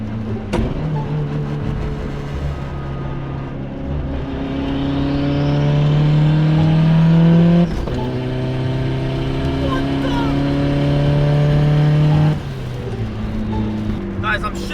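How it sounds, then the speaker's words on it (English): A turbocharged EVO revs hard inside the cabin while being shifted without the clutch, its loud engine tone climbing, breaking off sharply at each gear change and climbing again, with a voice talking over it. "Guys, I'm shifting with no clutch."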